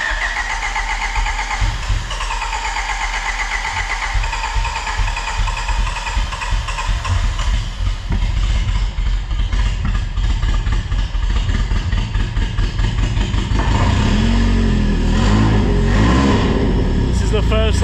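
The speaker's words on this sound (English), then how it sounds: "This is the first time the motor runs as a manual swapped car." A Honda Prelude freshly swapped to a manual gearbox cranks, catches and starts, then runs with a rough, loud idle and a few revs, close up, with people talking over it.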